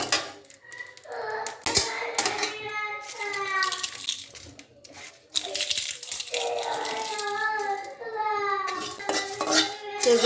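Dry coriander seeds and dried chilies are lightly roasted in a pan, with a spatula rattling and scraping against the metal in uneven bursts over a steady tonal backdrop.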